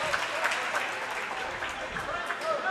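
Spectators at a school basketball game cheer and clap in a steady, dense wash of crowd noise, applause spread evenly across the whole stretch without a break.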